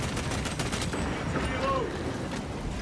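Rapid gunfire in Warhammer 40,000: Space Marine 2, a dense, steady burst of shots rattling nonstop at moderate loudness for about three seconds, with game voices faintly mixed in.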